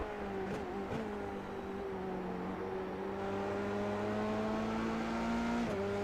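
Formula 3 race cars lapping Suzuka in a sim racing game, engines droning at a steady high pitch that rises and dips slightly through gear changes, with a continuous close, loud whine and no pauses.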